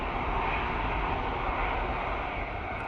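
A plane passes at windy Manchester Airport, its jet engines a steady, broad, distant roar with no voices over it.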